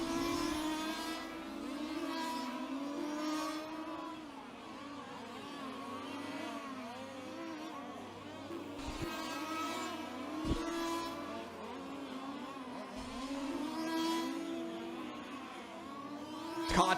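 Electric 2WD sedan RC cars racing in an A1 final, a busy layered whine of motors rising and falling as they sweep around the track, with occasional sharp clicks and knocks, moderately faint overall.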